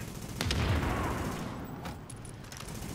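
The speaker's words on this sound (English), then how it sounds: "Laying down suppressing fire." Gunfire from the video game Tom Clancy's The Division, in the WarrenGate Power Plant co-op mission, rattles as a dense, continuous burst of rapid shots at moderate volume, with no talking.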